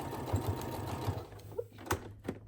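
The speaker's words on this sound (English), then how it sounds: "Okay, we're gonna sew straight down this edge." A sewing machine stitching straight down the edge of a fabric bag gives a fast, steady mechanical whir for about a second and a half, then slows into a few short bursts and clicks, close and without voices.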